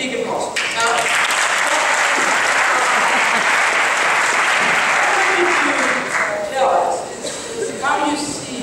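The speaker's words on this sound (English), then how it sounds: "he deserves for the Basque Country a big applause" Loud, dense audience applause at a conference talk on the space industry, sustained for several seconds and tapering toward the end, with a few voices faintly audible.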